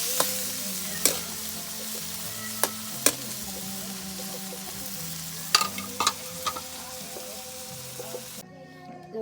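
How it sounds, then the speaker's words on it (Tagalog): Tomatoes sauté in a pan in a countryside kitchen in the Philippines, giving a steady low sizzle broken by occasional sharp clicks and taps of a spatula. "Nagigisa pa po ng kamatis."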